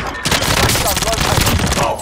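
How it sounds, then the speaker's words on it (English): Gunfire in the video game Warzone, a dense rapid burst of shots and impacts packed together, loud and close, with a voice speaking over the sound. "Enemy cluster strike, incoming! I'm under fire!"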